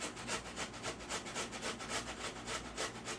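Carrots being hand-grated for a homemade carrot cake, a steady rhythmic rasping of strokes against the grater, close and fairly quiet, with no voices.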